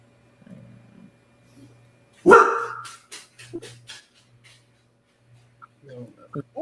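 A dog lets out one loud, close bark followed by a quick run of shorter, weaker barks and yips, with people talking quietly before and after.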